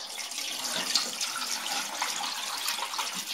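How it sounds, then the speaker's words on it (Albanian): Water poured into a metal baking tray while preparing a rice and goose dish, a continuous splashing, gurgling stream heard close and steady throughout, alone without voices. "Në tepsi hedhim ujin"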